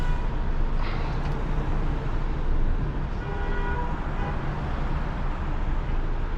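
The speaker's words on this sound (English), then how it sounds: "Don't know if you can hear a few people starting to toot now." Car horns tooting in congested London traffic held up by a 26-tonne lorry recovery, short distant honks rising over a constant dense traffic roar.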